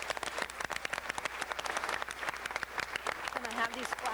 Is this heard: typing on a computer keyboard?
no